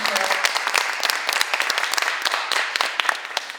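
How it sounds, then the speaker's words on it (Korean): Audience applause at a Gangneung cultural city program briefing, dense steady clapping from a hall crowd lasting throughout, fairly loud and close with no talk over it. "우리 센터에 다시 한번 큰 박수 부탁드리겠습니다"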